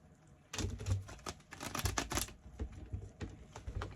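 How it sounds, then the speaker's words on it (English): A deck of tarot cards is shuffled in rapid, crisp bursts of riffling and flicking, fairly close and quiet, with no voice over it. "I'm gonna shuffle them one more time"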